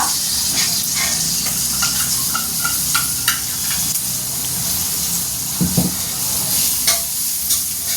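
Onion and peanuts sauté in a pan for upma, giving a steady frying sizzle and hiss with occasional soft stirring scrapes.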